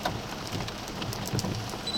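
Steady rain pattering on surfaces nearby as a tornado passes, a continuous hiss with scattered drops, no voices.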